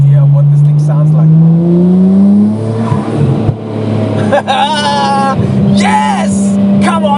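A Tomei-tuned Nissan Skyline R34 revs hard while driving, its engine note climbing in loud sustained pulls that drop and surge again, with a voice speaking briefly over the middle.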